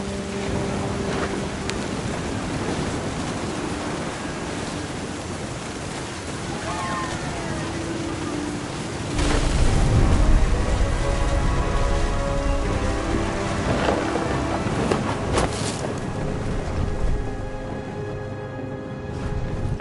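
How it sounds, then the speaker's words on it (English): A thunderstorm in What Remains of Edith Finch, steady loud rain with a deep rolling thunder rumble swelling midway and slowly fading, the downpour continuing throughout. "The thunder sounded much too close and full of angry power."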